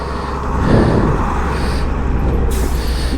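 A lorry passes close on a rough Himalayan mountain road, a broad, loud rumble of heavy engine and tyres swelling and then holding steady with air-brake hiss, heard over a motorbike's running engine with no talk.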